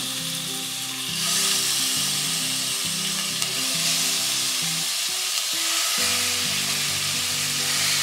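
Chicken tikka sticks fry in oil on a tawa with a loud, continuous sizzle and hiss, steady throughout with faint clinks as pieces are laid down.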